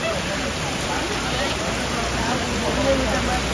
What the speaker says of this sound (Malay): Korang tiba-tiba kat sini hujan batu.